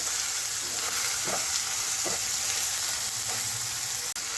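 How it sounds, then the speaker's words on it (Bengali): Tomato with salt and turmeric fries in a pan with a loud, continuous close sizzle, broken by a few soft stirring scrapes and a brief knock, no speech. "এর মধ্যে দিয়ে দেবো নুন আর হলুদ, দিয়ে টমেটোটা খুব ভালো করে ভাজবো নরম হওয়া অবধি।"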